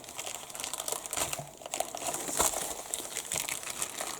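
A plastic mailing bag crinkles and crackles up close as an art book is unwrapped, a continuous busy rustle with sharper crunches, no talk.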